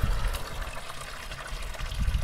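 Weak, low-pressure tap water running from a faucet because of a low-voltage supply, a thin continuous trickle and splash heard close up with no voices.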